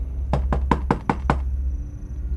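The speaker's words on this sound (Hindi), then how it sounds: "धीरे से नॉक किया।" Six soft, evenly spaced knocks on a closed room door, close by and quiet, coming in a quick steady run before falling silent over a low background hum.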